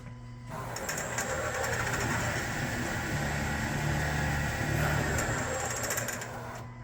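A Hardinge Omni-Turn CNC lathe with an AC vector drive runs a short program, a steady mechanical whir with faint ticking that starts and stops cleanly over about six seconds.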